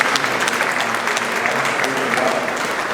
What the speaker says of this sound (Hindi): तो खुद के लिए भी ताली बजाओ।